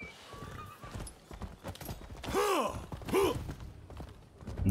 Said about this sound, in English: And now we got that horse that's faster.